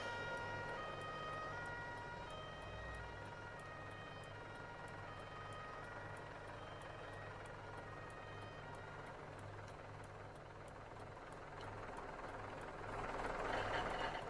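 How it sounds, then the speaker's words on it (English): A video game ambulance siren wails, sweeping up and down continuously at a distance, mixed with a low engine rumble that swells toward the end. "Here's the ambulance coming."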